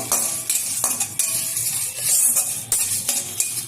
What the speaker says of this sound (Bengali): আর ওভেনে আমি একটা কড়াই বসিয়ে তাতে দিয়ে দিচ্ছি কিছুটা পরিমাণে পাঁচফোড়ন, দিয়ে দিচ্ছি একটা তেজপাতা টুকরো করে নিয়েছি, 3টে শুকনো লঙ্কা